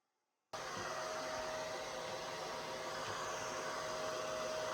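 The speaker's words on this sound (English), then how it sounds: "I need to dry my hair now. I've had this Revlon diffuser for years." A Revlon hair dryer with a diffuser attachment switches on after a brief silence and blows a loud, steady whooshing drone with a thin motor whine, running without a break while drying hair.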